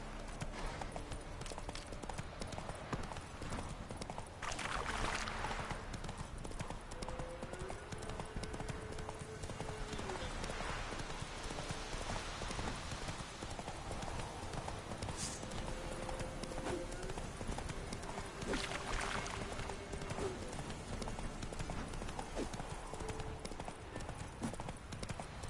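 Continuous galloping hoofbeats from Geralt's horse Roach in The Witcher, a dense, fast, even rhythm held for the whole stretch, with occasional faint voice and ambient game sounds beneath.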